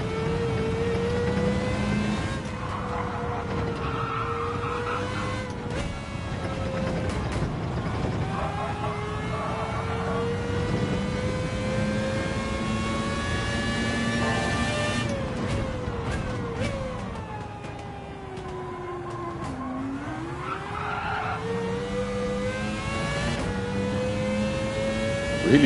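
Renault Espace F1 engine in Gran Turismo 7 on the Yas Marina circuit, a high-pitched screaming V10 wail rising and falling through gear changes and corners, loud and continuous with no talking.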